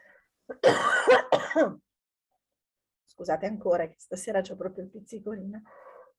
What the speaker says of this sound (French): je tousse un peu ce soir